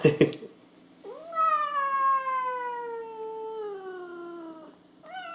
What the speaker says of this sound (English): Guys, look, this is my cat.